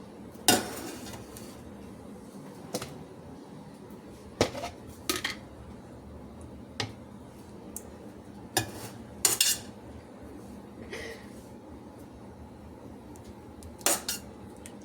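A spoon mixes food in a bowl, with sporadic sharp clinks and scrapes against the dish over a quiet background.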